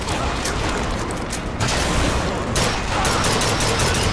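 Rapid gunfire crackles in the shooter game Bioshock Infinite, a dense, loud volley of shots with mechanical clatter that keeps going steadily through the whole stretch.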